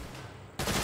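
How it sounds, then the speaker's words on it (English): A sniper rifle shot in the video game Saints Row: a single loud, abrupt blast cutting in over a low steady background hum and carrying on through the end of the moment. "I should snipe them back."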